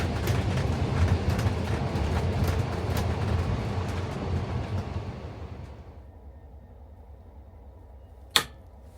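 The Riverlander overnight train in Australia rumbles along old, outdated rails with a dense low roar and rattle that fades after several seconds, followed by quieter running and one sharp clack near the end.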